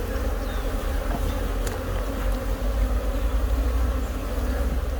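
Honey bees swarm at a hive in a tree, a dense, continuous low buzz that holds steady and close throughout, with no speech.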